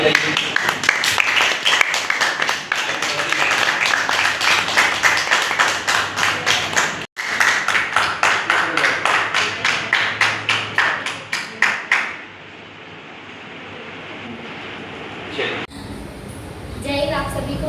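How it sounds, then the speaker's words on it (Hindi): A crowd at a coaching academy farewell claps loudly and quickly for a student, the applause running steadily, then stopping abruptly into quiet room noise. "ग्रेट, इनके लिए भी जोरदार ताली बजाइए।"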